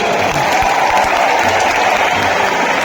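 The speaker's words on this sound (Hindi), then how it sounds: "एक बार इनके लिए भी जोरदार ताली हो जाए।" Loud, dense applause from a large crowd inside Indira Gandhi Stadium in Delhi at a political rally, a continuous roar of clapping that holds steady throughout.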